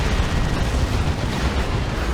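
Turrets are blown apart in a Warhammer 40,000: Dawn of War II match with the Elite Mod, giving a dense, continuous roar of explosions and artillery-like blasts that stays loud and rumbling throughout.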